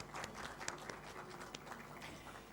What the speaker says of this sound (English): I would like us to have a round of applause for our panelists as they go off the floor.